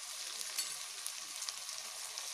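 Oil sizzling in a pan as egg fried rice is cooked, a steady faint hiss with small crackles and pops scattered through it, close by and without talk.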